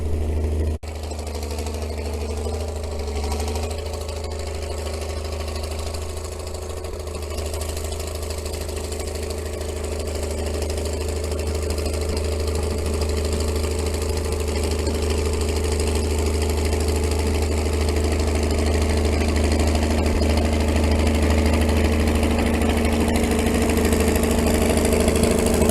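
A D6 Caterpillar dozer runs steadily while pushing up a wood pile, its deep diesel drone and rumble continuous and close, slowly growing louder with no talk.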